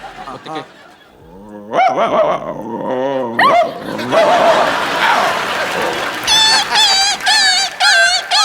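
A man in front of a studio audience vocally imitates dogs barking, snarling and fighting, with loud, close, rapid yelps and growls in bursts, then a run of high, warbling whines that rises over crowd noise.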